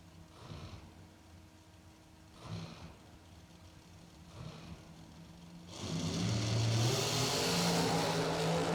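Dragster engine at a drag race: a low idling rumble with periodic revs, then a loud sustained roar building in the final seconds, heard from a distance.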